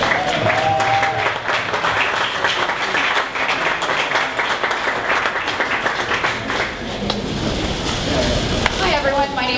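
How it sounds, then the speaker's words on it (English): A standing audience at a startup pitch event applauds a presenting company, loud and dense clapping throughout, with voices mixed into the crowd noise. "can everyone please stand up and give a big round of applause for Converse VR"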